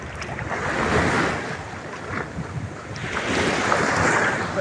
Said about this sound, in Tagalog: Lakas ng alon pre, oh.